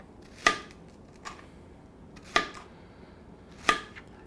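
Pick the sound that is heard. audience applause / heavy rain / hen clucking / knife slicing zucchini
knife slicing zucchini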